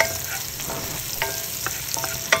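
Garlic frying in a pan for a Filipino ginataang gulay with fish, a steady close sizzle with a few brief stirring clicks and scrapes, no talking.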